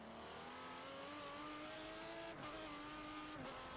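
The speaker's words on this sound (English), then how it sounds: "Sounds like he's got some damage on his car." Damaged race car engine in a racing video game, a steady droning engine note with a rough, slightly wavering pitch that briefly drops twice, as if lifting off the throttle, and no talk over it.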